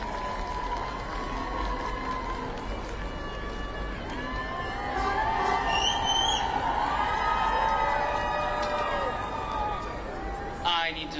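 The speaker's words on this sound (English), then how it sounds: "let's give them a round of applause while they're getting set up" A large outdoor crowd at a vigil in Trafalgar Square cheers and applauds, a broad sustained roar with whoops and shouts that swells midway, with voices mixed in throughout.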